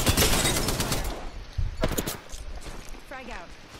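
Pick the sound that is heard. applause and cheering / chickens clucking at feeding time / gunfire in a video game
gunfire in a video game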